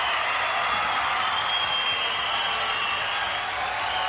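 Steady, dense applause from a studio audience cheering two male quarter-finalists on a 1995 Australian Gladiators show, continuous and fairly loud throughout.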